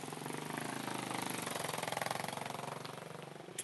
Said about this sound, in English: Like that motorbike right now, you didn't hear that?